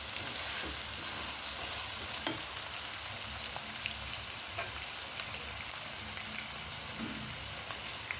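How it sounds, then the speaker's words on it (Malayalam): Curry leaves stirred into an onion curry frying in a pan make a faint, steady sizzle with occasional light scrapes and crackles, with no talking. "ഇതിലേക്ക് കുറച്ച് വേപ്പിലയും കൂടി ചേർത്ത് കൊടുക്കാം. എന്നിട്ട് നന്നായി ഇളക്കി കൊടുക്കുക."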